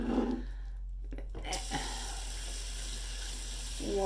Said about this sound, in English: But first I gotta wash my hands off.